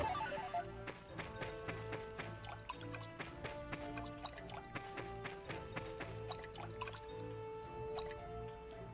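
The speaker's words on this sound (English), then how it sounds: "There's water over here, too." Water dripping inside a cave in the video game Ys: Memories of Celceta, steady droplet plinks scattered over a musical game soundtrack, with no talking.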